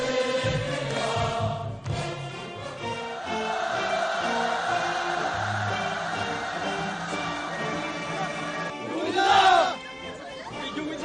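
Crowd of students shouting cheers, a broad roar of many voices and babble holding steady, with a louder swell near the end.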